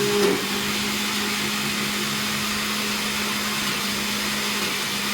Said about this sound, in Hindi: ये अब ग्राइंड हो रहा है।